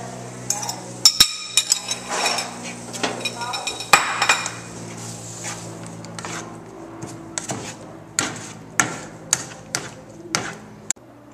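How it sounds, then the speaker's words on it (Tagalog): Bagoong being mixed in a pan with tomato, onion and garlic, metal utensils clinking and scraping against the pan in a run of sharp irregular taps and knocks, close by, with a voice talking at times. "Atin pong ihahalo sa bagoong."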